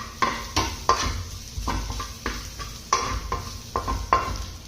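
A spoon scrapes and stirs masala with salt in a pan in quick repeated strokes, close up, with faint sizzling between the scrapes.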